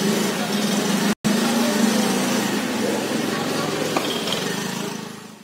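A new 2019 Honda Dio scooter engine runs at a steady drone under broadband road and wind noise, with a momentary dropout near the start and a slight fade at the end.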